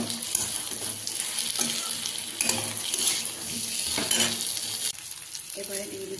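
Potatoes go into a hot pan of spices for a cauliflower and potato curry, setting off a loud, steady sizzle and fry with stirring scrapes, which drops back briefly near the end and then resumes.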